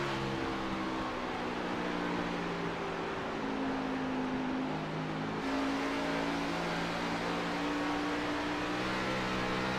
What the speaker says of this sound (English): So fun to listen to Blake's throttle.